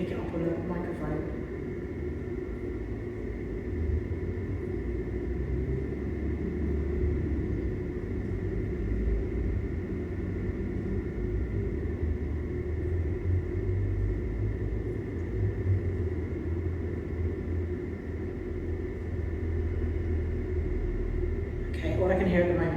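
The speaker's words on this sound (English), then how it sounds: "All I can hear at the moment is the traffic outside." Steady traffic rumble drifts in from the street outside a Glasgow music venue, a low continuous wash of passing cars with a brief louder swell at the very end.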